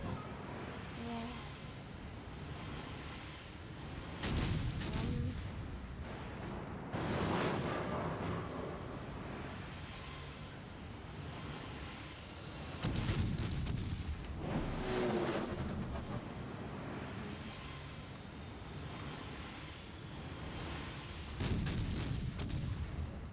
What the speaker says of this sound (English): Whoa, these shells are just flying now.